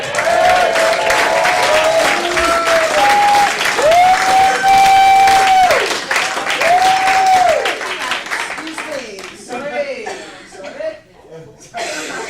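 Audience applause and chuckling welcome a stand-up comedian onto the stage at the Camino Real Playhouse, a loud, sustained crowd clapping that gradually thins and fades toward the end, with a few scattered laughs and a voice near the close.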